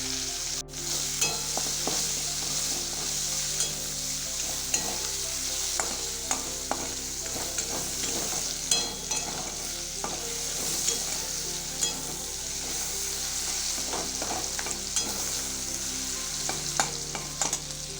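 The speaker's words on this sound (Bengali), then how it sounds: "জিরেটা লাল হয়ে আসলে তারপরে দেবো পেঁয়াজ, দিয়ে দেবো পেঁয়াজ" Onions fried in oil with cumin seeds, sizzling steadily and close by, with frequent light stirring scrapes and clicks against the pan throughout.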